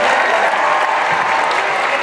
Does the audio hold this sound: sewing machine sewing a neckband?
no